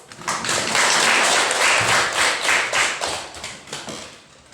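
A classroom of junior high school students bursts into applause, loud and close, a dense clatter of clapping that swells and then tapers off unevenly over a few seconds.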